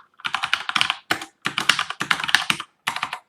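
Quick bursts of typing on a mechanical keyboard, close and crisp, with rapid clacking runs separated by short pauses.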